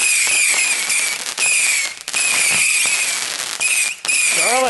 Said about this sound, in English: can you hear me over the fireworks?